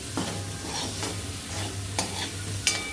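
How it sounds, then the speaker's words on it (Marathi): Slices of paneer fry in oil while being stirred, a steady loud sizzle broken by a few scraping strokes and light clinks of the spoon against the pan, with no voices. "तेलावरती आपल्याला याच्यामध्ये फ्राय करून घ्यायचं आहे"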